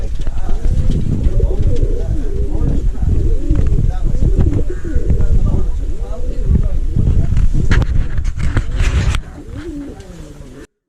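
American and Indian fantail pigeons cooing steadily in a cage at a pigeon farm, a dense chorus of overlapping coos up close, with some wind noise; the sound thins out near the end.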